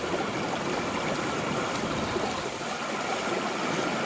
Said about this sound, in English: Beautiful babbling brook,